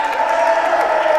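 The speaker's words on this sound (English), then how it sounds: "why is everyone cheering that loud for that strike?" A crowd at a Blitzball game cheers loudly after a pitched strike, a steady wash of cheering and whoops from close by. A voice talks over it.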